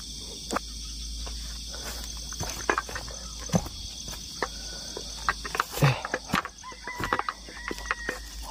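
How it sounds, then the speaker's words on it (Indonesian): Wild jungle fowl call out in a Sumatran forest at night near a durian orchard, their sharp calls rising now and then over a steady, dense chorus of chirring crickets and other insects, with no one speaking. "Aduh, ayam hutan mas bro."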